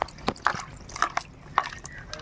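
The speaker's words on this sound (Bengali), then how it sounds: "ধুয়ে নেব বেশ ভালো করে।" Green chilies being washed by hand in water in a kitchen, with soft irregular splashes and drips, close and fairly quiet.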